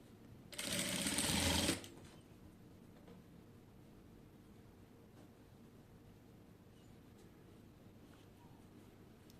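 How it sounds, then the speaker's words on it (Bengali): A sewing machine runs one short, loud burst of stitching as lace is sewn onto a kameez hem, then stops, leaving quiet room noise with faint handling sounds. "তো তিনটাকে হচ্ছে এরকম করে একত্র করে তারপরে হচ্ছে আমি সেলাইটা করব।"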